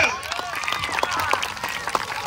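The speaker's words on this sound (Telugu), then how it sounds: "గట్టిగా చప్పట్లు చిన్నారికి." Audience clapping for a little girl's dance performance, a brief burst of scattered claps and cheers with a voice over it.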